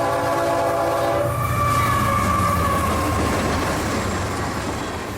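Loaded K802 freight train hauling phosphate dry rock out of Mulberry, Florida, rumbles past steadily and loud, its horn sounding near the start over the continuous rolling of the cars.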